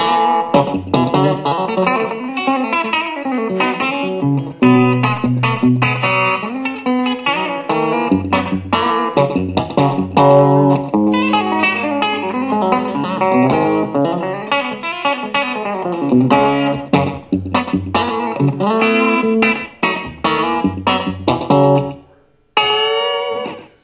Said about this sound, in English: So on one side, we have a Telecaster through a Fender Twin. On the other side, we have a Stratocaster model through a Twin.